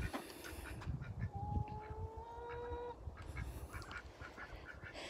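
Khaki Campbell ducks honk and quack on a small farm, with several harsh overlapping calls and one longer drawn-out note among ongoing bird chatter nearby.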